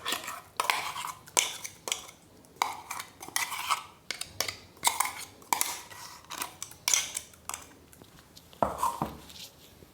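A spoon scrapes ground green peas out of a grinder jar into a bowl, making a steady run of sharp metallic scrapes and knocks about every second, close and fairly quiet.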